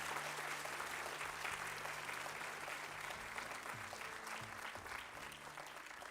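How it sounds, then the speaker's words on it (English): Audience applause for fourth-grade performers at a school play, a dense steady clapping from a full room lasting throughout with a faint background murmur. "So big round of applause for grade 4."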